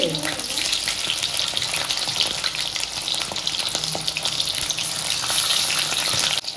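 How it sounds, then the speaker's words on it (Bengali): Pieces of flour dough deep-fry and puff up in hot oil, making a loud, dense, continuous bubbling sizzle close by with faint background noise throughout. "এই দেখো এক একটা ছেড়ে দিচ্ছি, দেখেছো ফুলে ফুলে কেমন হচ্ছে।"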